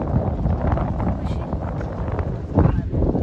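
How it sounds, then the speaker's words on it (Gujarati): Strong wind buffets the microphone outdoors, a loud, continuous rumbling roar with gusty surges, heaviest near the end. "બહુ પવન છે પાછો."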